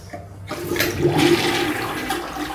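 A toilet flushes in a small city bathroom with a bidet, starting with a sharp rush of water that swirls and drains steadily, fairly close and alone.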